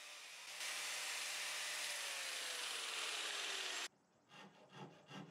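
Angle grinder carving bog oak and flame maple on a custom guitar body, a loud steady abrasive roar for several seconds that cuts off abruptly, followed by softer rough scraping strokes.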